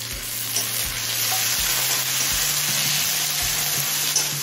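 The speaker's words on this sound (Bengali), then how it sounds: "এখন দিচ্ছি মাঝারি সাইজের একটা টমেটো" Chopped medium-sized tomato added to onions browning in oil on medium heat, giving a steady close sizzle with stirring scrapes and clatters recurring throughout.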